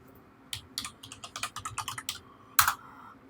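Keys on a computer keyboard clack in a quick, uneven burst of close taps, about a dozen strokes with a sharper hit near the end, over a quiet room with no talking.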